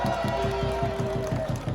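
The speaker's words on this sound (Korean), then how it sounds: "우리 힘차고 즐거운 공연해주신 목진호 가수님께 다시 한번 큰 박수 부탁드립니다" Crowd at an outdoor candlelight rally in Daejeon applauds a singer after his performance, steady rhythmic clapping filling the clip with a held tone over it.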